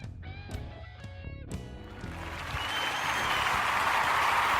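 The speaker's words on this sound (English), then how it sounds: "The crowd goes wild." A studio crowd at the opening of a live security radio show breaks into applause that swells into a steady, loud wash after a few short musical stings.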